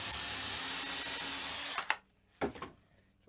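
A cheap drill fitted with a 6mm bit test-drills a hole for 6mm dowels during a custom guitar build. It gives a steady, close whir for about two seconds, then stops, followed by a couple of short knocks.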